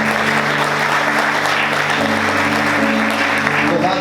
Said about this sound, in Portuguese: Vamos aplaudir Jesus bem forte.